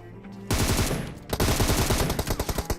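Automatic gunfire in PUBG on the Erangel map, with a short opening burst followed by a longer sustained stream of rapid shots, loud and close.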